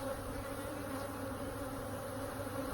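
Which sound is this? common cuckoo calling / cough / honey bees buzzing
honey bees buzzing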